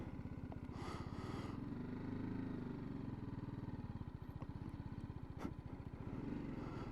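A BMW 310GS motorcycle making a tight low-speed U-turn in a parking lot: steady, close single-cylinder engine putter at idle-to-low revs, even and continuous throughout.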